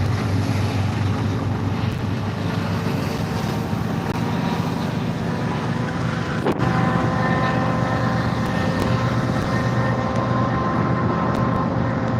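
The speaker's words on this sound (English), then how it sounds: "Well, I bet you that train is heavy carrying all that" A heavy, continuous low rumble rolls steadily on as a long freight train loaded with asphalt passes nearby, with wind buffeting the microphone throughout.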